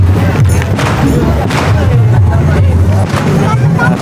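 Carbide cannons (meriam karbit) firing at a crowded bedug contest festival in Jonggol, with several loud booms in quick succession over a dense crowd din and voices.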